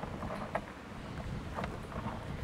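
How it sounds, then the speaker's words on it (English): Steady outdoor wind buffeting with low rumbling gusts, fairly quiet and continuous, no voices. "It is so windy today."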